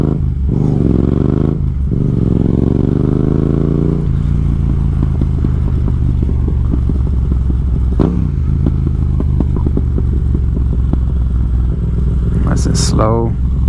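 A Yamaha MT-07 motorcycle rides through New York City traffic, its engine rumbling loudly and revving, with crackling pops and sputters from the exhaust as it slows down. Wind noise runs throughout, and a voice talks over it.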